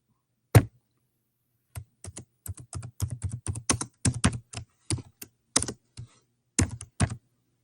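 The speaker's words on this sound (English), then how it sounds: "I'm just typing something up." Close, crisp keystrokes on a computer keyboard come in irregular bursts of quick taps separated by short pauses in an otherwise quiet room.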